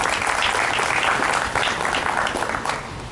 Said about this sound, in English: let's clap for Elizabeth.